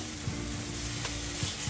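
Pork patties frying in a pan during budget meal prep, a continuous close sizzle with brief scraping and tapping as they are turned over.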